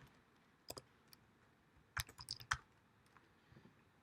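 Keys clack on a computer keyboard as a student's name is typed, with scattered single clicks and a quick flurry in the middle, close but soft in a quiet room.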